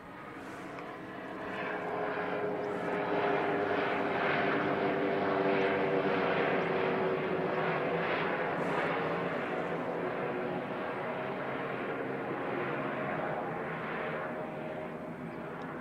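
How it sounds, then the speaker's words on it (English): A helicopter flies back near Christchurch Airport, its broad engine and rotor drone swelling over the first two seconds, then holding as a steady, moderately distant roar before easing slightly at the end. "Good chopper coming back as well."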